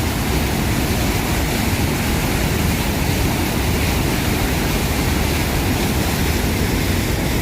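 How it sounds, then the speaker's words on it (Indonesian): A flooded river, the Brantas, roars through a rubber dam at Sudimoro, Megaluh, Jombang, a loud, unbroken wall of rushing water filling the whole clip with no voices. "Sungai Bratas. Ini kondisinya lagi banjir loh."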